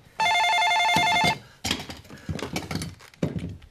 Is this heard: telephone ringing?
yes